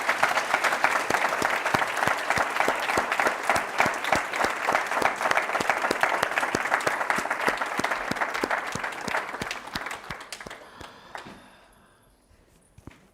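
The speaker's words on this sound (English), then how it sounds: "a big round of applause" Sustained applause from an audience at a live satsang gathering, steady dense clapping that carries on for about ten seconds before tapering off and fading to near silence at the end.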